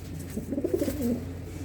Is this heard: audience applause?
no